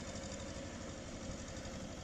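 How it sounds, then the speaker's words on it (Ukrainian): Small farm tractor engine running by a saffron field, a faint, steady low rumble that holds unchanged throughout with no voices. "Наш тракторець."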